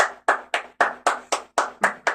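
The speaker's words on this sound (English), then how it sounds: "Oh my god, they're all clapping." Loud, close hand clapping in an even rhythm, nine sharp claps spaced about a quarter second apart, each with a short ringing room tail, and no voices.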